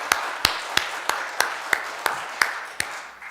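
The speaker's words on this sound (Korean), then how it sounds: "우리 박수로 다 환영하면 좋겠습니다" A church congregation at a Sunday service applauds. A steady wash of clapping runs under regular, evenly spaced louder claps that beat in rhythm for a few seconds.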